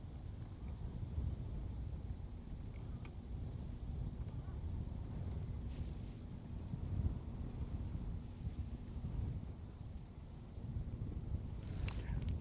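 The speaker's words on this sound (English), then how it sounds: "That upstream wind is not fun." Steady outdoor wind gusting across the microphone beside water, a continuous low rumbling roar that swells slightly and never lets up, with no one talking.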